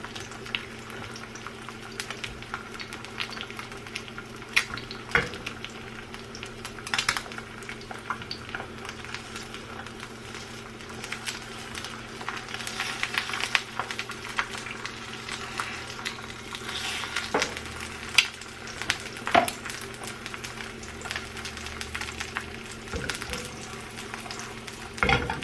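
An egg fries steadily in a pan, a soft continuous sizzle running throughout with occasional faint scrapes and clicks as a utensil works around its edge; no one speaks.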